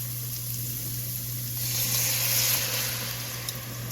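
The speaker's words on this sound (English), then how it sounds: "Now we're going to add all of our beautiful San Marzano tomatoes" Canned San Marzano tomatoes poured into a pan of cooked onions and garlic for pizza sauce, a soft wet splashing and gentle sizzle that swells midway and then eases, over a steady low hum.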